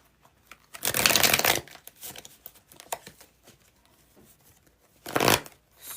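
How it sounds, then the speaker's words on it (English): Two quick riffles of a deck of cards being shuffled, close and crisp, separated by soft handling taps and rustles. "Let me shuffle again"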